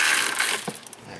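A ratchet loosening a bolt on an aftermarket cooling fan of a Jeep Grand Cherokee, a brief burst of close clicking that trails off into a few separate ticks.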